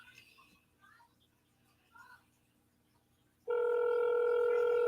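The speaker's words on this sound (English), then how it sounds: "It's ringing." A telephone ringback tone on an outgoing call begins suddenly partway through, a loud steady electronic tone continuing to the end after a quiet stretch of faint background noise.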